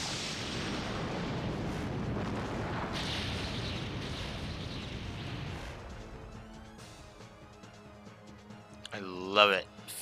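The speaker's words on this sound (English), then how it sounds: "so he can do like 5 full rounds of firing the Divine Dragon cannon" In Legend of Dragoon, the Divine Dragon cannon fires with a long roaring blast of rumbling noise that rolls on for several seconds, followed by quieter game effects and a sharp swooping tone near the end.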